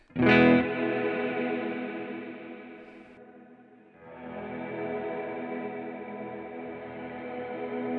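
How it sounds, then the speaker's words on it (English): A sustained electric guitar tone warbles with a gentle vibrato-style modulation from a Strymon Cloudburst pedal, fading briefly before a second ringing chord swells in and holds. "You can hear it's a little bit of a vibrato thing going there."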